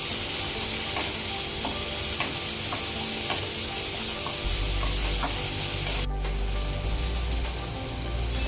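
Finely chopped tomatoes sautéing in a hot pan for Amritsari paneer bhurji, a steady close sizzle with occasional spoon scrapes, growing louder and fuller partway through as fresh ingredients hit the oil.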